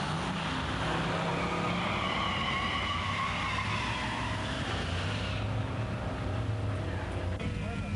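Buick 1987 Turbo 231 Grand National and 1970 455 GSX drag racing at a pure stock muscle car event, a sustained roaring engine drone with tire noise, heard from a distance with a voice speaking over it.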